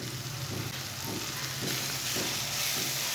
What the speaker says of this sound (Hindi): और सब मसालों को ना 1 मिनट तक भून लेंगे।